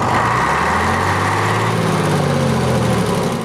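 A bus engine idling steadily beside a roadside exhaust smoke check, a continuous low rumbling drone that stays even throughout and eases off slightly at the end.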